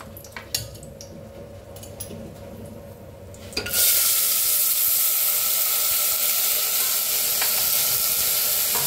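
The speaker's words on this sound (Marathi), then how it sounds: "आता कुकर चांगला गरम झालाय, त्यात टाकायची थोडीशी हळद भाजून घेऊया थोडीशी। आता ह्याच्यात टाकूया ती मटकी स्वच्छ धुवून घेतलेली।" Moth beans and turmeric hit a hot pressure cooker after a few light clatters, bursting into a loud, continuous sizzle that holds steady to the end.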